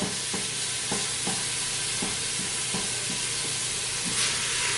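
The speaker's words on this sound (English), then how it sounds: "Just continuously stirring." Ground beef sizzles and hisses loudly in a hot pan, with steady frying under regular scraping strokes from continuous stirring, close up and with no talk.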